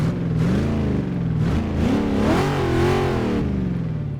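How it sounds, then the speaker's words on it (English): A car engine in Forza Motorsport 6 turns over and revs steadily, its pitch rising and falling in smooth sweeps, loud and close with no talk. "hop in and start the engine"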